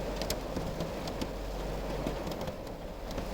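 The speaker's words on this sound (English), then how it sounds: "As you can tell, it's raining outside." Steady rain patters continuously on a car nearby, a dense, even hiss with occasional sharper drops.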